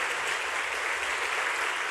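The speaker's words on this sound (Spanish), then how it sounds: "le demos un aplauso de alabanza y gratitud a nuestro Dios" Congregation applauding in church during a worship service, a brief continuous burst of many hands clapping at steady, even loudness with no talking.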